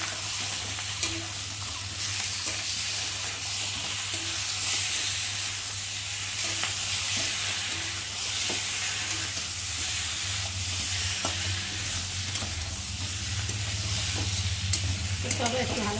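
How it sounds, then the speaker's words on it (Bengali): Spice paste of cumin and coriander powder, turmeric, ginger paste and tomato frying in a pan, a steady close hiss and sizzle with occasional light stirring clicks over a constant low hum, no talking. "আর দেবো একটা টমেটো দিয়ে মশলাটাকে ভালো করে কষিয়ে নেব"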